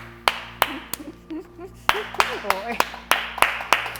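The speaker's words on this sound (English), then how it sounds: "give her a round of applause" An audience claps at a talk show in sharp, uneven bursts that build into steady applause, with a person talking over the clapping.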